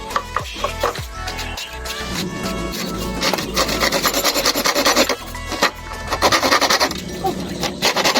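Steady rasping strokes of a hand saw cutting through wood, fairly close and loud, in a continuous back-and-forth rhythm.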